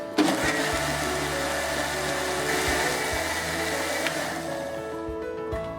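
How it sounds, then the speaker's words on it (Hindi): A mixer grinder whirs steadily as it grinds red coconut chutney with added salt and a little water, a loud continuous motor drone from start to finish. "और एक बार फिर ग्राइंड करते हैं।"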